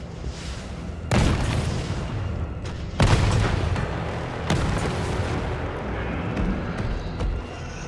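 Rocket launcher explosions in Resident Evil 3 Remake during a boss fight. Three heavy booming blasts sound close and loud, each leaving a rumbling tail that fades slowly, with no talking over them.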